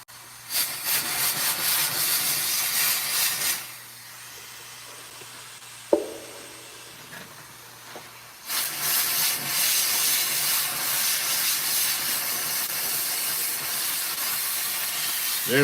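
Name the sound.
steam cleaner hissing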